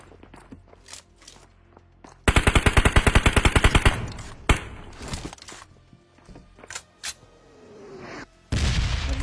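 Rapid automatic gunfire from a first-person shooter video game, a loud rattling burst of about a dozen evenly spaced shots, then scattered single shots and clatter, and another loud burst at the end.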